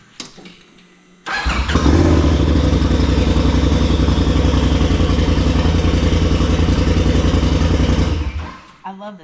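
A Razor side-by-side's engine cranks briefly and catches, then settles into a loud, steady rumbling idle up close for several seconds before cutting off.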